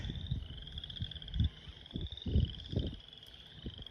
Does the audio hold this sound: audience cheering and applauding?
no